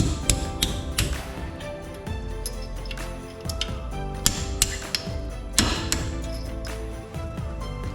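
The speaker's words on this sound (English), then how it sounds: "you're going to take your roll pin punch and your hammer," A hammer strikes a roll pin punch to drive out brake caliper pins on a Dodge Charger or Challenger four-piston brake, giving sharp metallic knocks in irregular bursts, close and loud.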